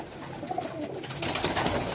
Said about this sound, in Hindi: लो जी ये शबीर साहब का राम कुमार कबूतर है